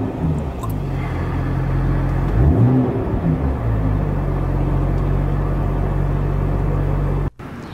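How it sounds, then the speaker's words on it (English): A 2011 BMW 1 Series M, 335-horsepower with a six-speed manual, idles with a steady low engine drone, close by, with a brief rev swell near the middle before settling back to an even rumble; no talking. "This is my 2011 Bmw One Series M."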